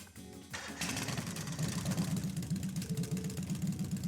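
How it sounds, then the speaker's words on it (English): Motorbike sidecar engine starting up in the video game Trails of Cold Steel: a brief rumble, then a steady, close idling putter that runs to the end. "I'm gonna start up the engine now."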